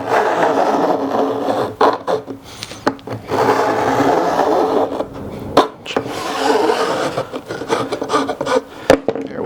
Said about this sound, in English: I'm just going to take this edge file and run it up and down the sides to kind of get rid of that bit of fret ends